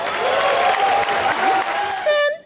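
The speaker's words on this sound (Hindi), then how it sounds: "जोरदार तालियां" Studio audience applause on a comedy show, loud and close, with a bright music sting and tonal cues sweeping over the clapping before it cuts off sharply at the end.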